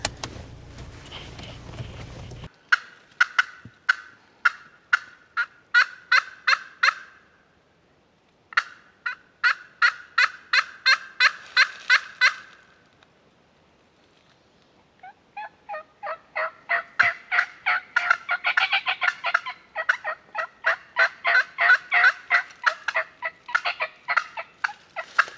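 Wild turkey gobbling and calling outdoors on public hunting land in Tennessee, a run of loud, rapid clucking and gobbling bursts in three long sequences separated by short pauses, clear and fairly close with no talk over it.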